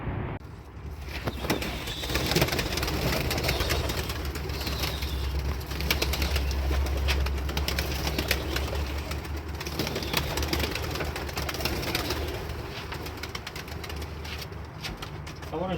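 Pigeons kept on a house roof flock and fly overhead, with soft cooing and wing flutters mixed into steady outdoor noise and a low engine-like rumble throughout.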